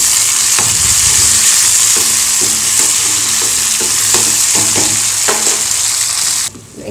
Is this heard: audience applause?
no